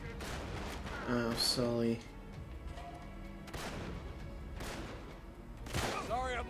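Gunfire erupts in the video game Uncharted 3 Drake's Deception, with a few heavy booming bursts mixed with game music as a voice speaks briefly.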